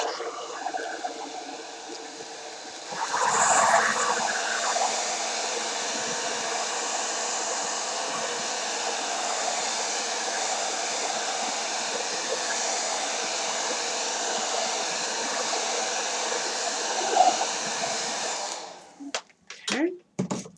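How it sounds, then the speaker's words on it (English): A heat gun blows steadily while drying a handmade mixed-media postcard built from a cereal box. The airflow makes a loud, even hiss that holds for about fifteen seconds and then cuts off, followed by a few handling knocks. "So let's get our heat gun."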